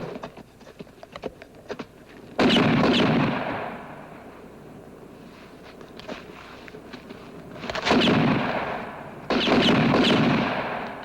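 Gunfire from a 1968 western film: bursts of loud shots crack out in clusters, with heavy volleys around a few seconds in and again near the end, separated by quieter stretches of scattered single reports.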